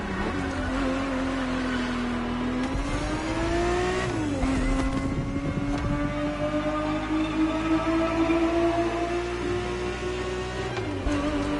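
Engine of a Ferrari 365 GTB4 in the racing game The Crew Motorfest, a steady, loud, continuous drone that holds pitch with a brief dip and rise midway, no talking.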